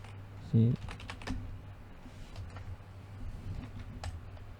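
Computer keyboard typing with scattered soft key clicks over a low electrical hum, preceded by a brief loud thump.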